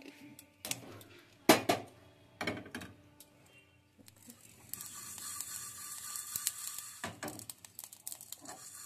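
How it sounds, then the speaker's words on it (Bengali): Half a spoon of panch phoron whole spices is dry-fried in a pan for a cauliflower-stem chorchori. Sharp clinks and scrapes come in bursts, followed by a sustained hissing crackle. "হাফ চামচের মতো পাঁচফোড়ন নিয়েছি, এগুলোকে আমি ভেজে নিচ্ছি।"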